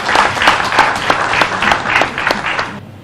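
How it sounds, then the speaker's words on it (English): Enthusiastic applause from a crowd, dense rapid clapping that holds steady for a few seconds before stopping abruptly. "Please, another round of applause to the distinguished senior."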